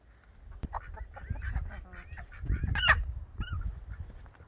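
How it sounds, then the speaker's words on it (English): Hens cluck and squawk close by on a rural property in Tasman, New Zealand, in short, irregular bursts, with a few sharper honking calls rising above the low rustle. "you're sharing this place with some hens now"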